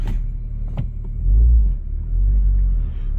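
A cold Honda Fit engine rumbles low and steady as the car pulls away in drive, with two swells of rising engine load and no voices, close and fairly loud.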